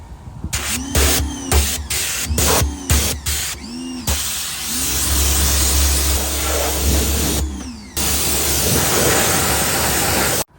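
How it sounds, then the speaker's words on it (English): A pressure washer sprays the interior of a Sea-Doo Fishpro 130 jet ski, its loud hissing spray starting and stopping in short bursts before running steadily, with a motor droning underneath. "Yes, you can hit it with a pressure washer."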